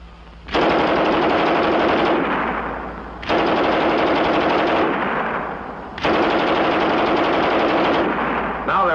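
A German MG 34 machine gun fires three long, rapid bursts, each lasting about two seconds with short pauses between, loud and close with a dense rattling report.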